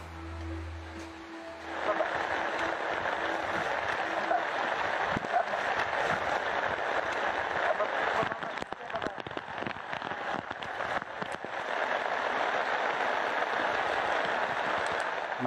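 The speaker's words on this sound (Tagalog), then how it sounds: "Medyo malakas yung ulan" Heavy rain pours steadily during a military operation, a dense continuous hiss that swells after a short quiet start and holds throughout with scattered crackles, and voices are heard now and then.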